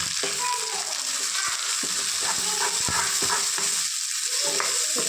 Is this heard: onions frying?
yes